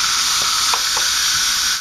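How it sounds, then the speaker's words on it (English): Steam venting from a pressure cooker during soup cooking, a loud steady close hiss lasting the whole moment with faint clicks underneath, cutting off at the end. "Pressure cooker is awesome, but it's hot when you let the steam go."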